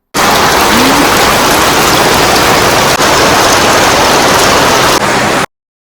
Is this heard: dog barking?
no